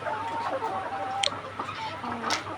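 Layer hens on a poultry farm cluck in short, scattered bursts over the steady hum of overhead fans, fairly close and moderately loud.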